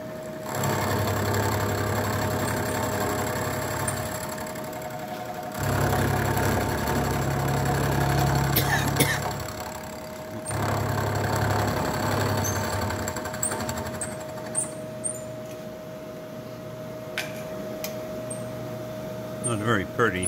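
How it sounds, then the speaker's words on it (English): A milling machine spot-faces metal with a 3/4 inch carbide end mill, a steady mid-pitched motor drone with a low growl that swells and drops in cutting passes, then settles to a quieter hum with small ticks. "I put a 3/4 inch carbide end mill in here"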